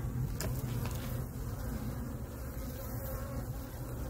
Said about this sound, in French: je vois encore des faux bourdons sous le rucher